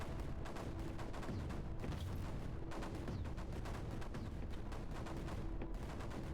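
Mortars firing repeatedly in the strategy game Creeper World 4, a steady stream of overlapping muffled thumps and booms at moderate level, continuous throughout with no talking.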